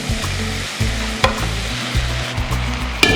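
Bread pieces stirred into a hot tempering in a frying pan for bread oggarane (bread upma), with steady sizzling and frying beneath repeated scraping and clinking stirring strokes, close and fairly loud, no voices.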